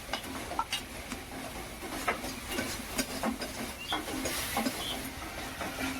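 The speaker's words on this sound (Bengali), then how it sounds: "এবার আলুটাকে আমি মেখে দিচ্ছি" Potatoes being mashed and kneaded by hand in home cooking, giving soft, irregular squelching and rubbing sounds with occasional light clinks against a bowl, close and fairly quiet without talk.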